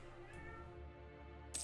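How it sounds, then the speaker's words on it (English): A cat meows insistently at a door, a few drawn-out harmonic cries up close, with a short sharp clatter at the end. "the cat is yelling at the door in a very insistent manner"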